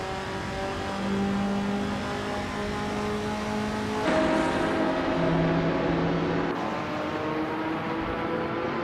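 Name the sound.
1964 Ferrari 275 GTB race car engine in video game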